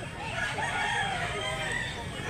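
Roosters crowing amid the steady hubbub of a busy rooster market in Mantalungon, Barili, Cebu, with a constant crowd murmur throughout and crows rising over the din.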